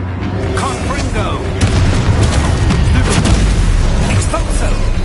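In Hogwarts Legacy, the Confringo fire spell explodes with heavy booming blasts and crackling bursts, loud and rumbling for several seconds under a player's voice.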